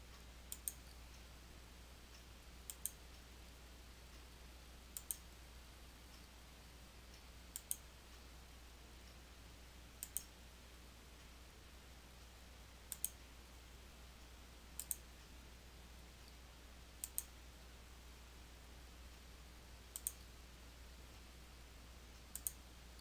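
Sharp, isolated mouse clicks come roughly every two to three seconds as points are placed with the Polygonal Lasso tool in Photoshop Elements 2020, close and crisp over a faint steady hum, with no talking.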